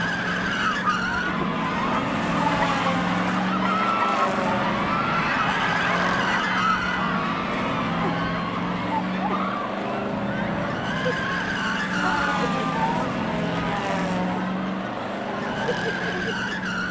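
A race car engine roars continuously alongside a long skidding tyre screech, loud and unbroken, used as a comic sound effect, with voices audible underneath.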